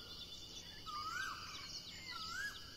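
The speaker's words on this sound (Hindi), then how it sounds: "कोयल बोल रही है सामने" A koel calls twice at dawn in Rajaji National Park forest, each a rising whistled note about a second apart, moderately distant over a steady insect hum.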